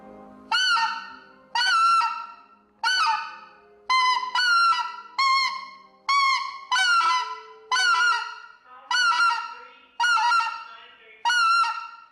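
A handmade game call blown to mimic a cackling goose gives about ten loud, sharp honking cackles in a steady rhythm, each a short burst with a quick break between, close and clear with no talking.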